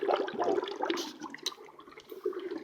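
Dry ice bubbles and gurgles vigorously in water at close range, with irregular fizzing and popping bursts.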